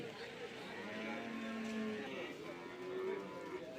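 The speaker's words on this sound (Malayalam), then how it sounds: "ഇതെല്ലാം കച്ചവടമായ കന്നാലികളാണ് ഈ സൈഡിൽ കൊണ്ട് കെട്ടുന്നത്" Cattle and buffalo tethered at a livestock market give low, drawn-out moos within a busy, steady background murmur.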